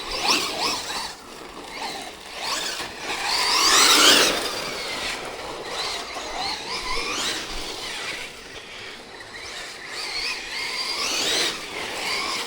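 A radio-controlled race car fitted with sensored electronics runs at speed, its motor whining up and down in rising and falling sweeps with a loud surge near four seconds, no voices over it.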